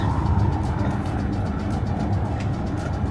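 Car interior road noise on a long drive across Newfoundland toward Gros Morne, a steady low rumble with tire hum throughout and no clear talk.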